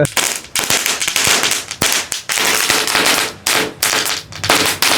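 Cannon-type firecrackers from a Sivakasi cracker haul burst in a rapid, loud string of sharp cracks and bangs, some overlapping, with brief gaps between volleys.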